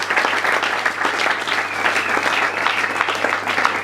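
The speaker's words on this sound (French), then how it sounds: "Acclamez pour la gloire de l'Éternel notre Seigneur notre Dieu." A church congregation bursts into steady, dense applause, the clapping continuous and fairly loud throughout, with a faint low hum underneath.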